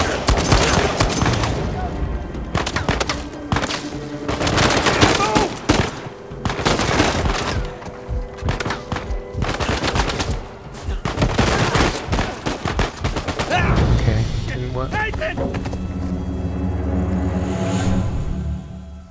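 Gunfire in Uncharted 4, rapid repeated shots and bursts at close range in an ongoing firefight, with brief speech partly under the shooting.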